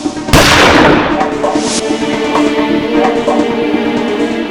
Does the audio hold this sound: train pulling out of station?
no